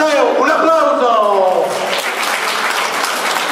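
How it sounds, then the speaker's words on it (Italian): A close crowd at an outdoor family-day event in Latronico, Italy bursts into loud, sustained applause, with a voice ringing out at the start as the clapping continues. "un applauso a Iole."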